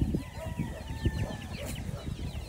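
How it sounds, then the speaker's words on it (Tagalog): Native chicks, asil among them, peep in a dense, continuous chorus of high chirps, with some low clucking from farm fowl mixed in, close and busy. "Ang dami sisiw, oh."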